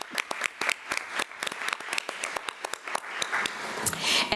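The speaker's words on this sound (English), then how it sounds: "Let's give Mrs. Lewis another round of applause" Staff meeting audience applauding a staff member at an adult learning center, dense steady clapping from a room of people, fairly close and lasting several seconds.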